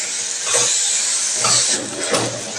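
Sliced mushrooms sautéing in hot oil in a pan, a loud continuous hiss with brief scrapes of stirring.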